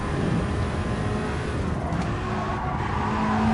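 A VW race car engine held at full throttle in GT Sport, a steady loud drone sustained throughout with a slight rise in pitch near the end, no talk over it.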